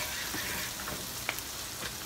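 Seasoned shrimp fry in a hot pan, giving a faint, steady sizzle scattered with small pops and crackles.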